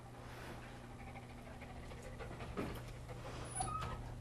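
A big adoptable dog named Shadow pants steadily close by, rapid breaths running throughout over a low steady background hum.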